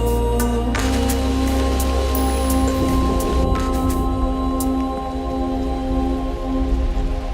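Steady, loud rain falls throughout a Malayalam film scene, a dense continuous wash with no voices over it.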